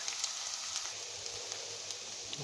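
Diced potatoes sizzle steadily in a hot pan, a soft continuous frying hiss with faint crackles, close and alone with no talking.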